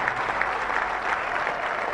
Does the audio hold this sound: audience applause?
yes